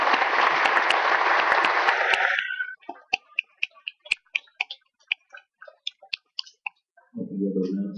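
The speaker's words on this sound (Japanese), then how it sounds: "もう一度ですね、大きな拍手をお願いをしたいと思います。" Loud audience applause at a Japanese community presentation event breaks off after about two seconds, leaving scattered single claps and clicks, then a low murmur of voices rises near the end.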